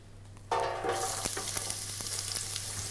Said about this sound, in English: we're going to pop the onions in this pan to brown these